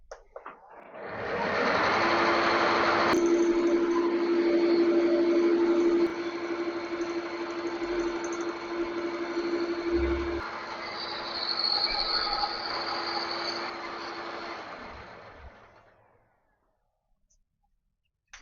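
A metal lathe cuts a workpiece surface down to 100 thou thickness, a steady loud machining whir with a sustained tonal whine through the middle, running about fourteen seconds before spinning down to quiet.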